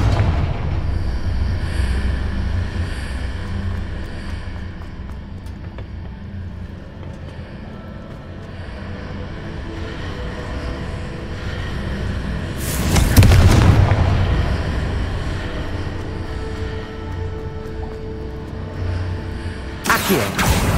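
A Confringo blasting spell in Hogwarts Legacy lands as a heavy explosive boom near the middle, with a second sharp blast at the very end over a low rumbling game backdrop.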